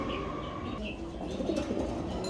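A pair of red Lahori pigeons coo softly nearby, low rolling calls with a few faint chirps over steady background noise, no voices.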